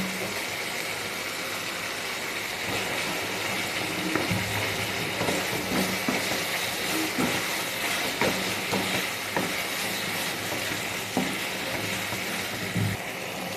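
Potatoes fry in oil for a capsicum and potato bhaji, giving a constant sizzle. Soft stirring scrapes and clicks break through now and then.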